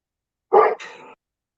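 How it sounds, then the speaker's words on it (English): One dog gives a single loud, close bark followed by a brief rough yelp, then silence. "my dogs are going crazy"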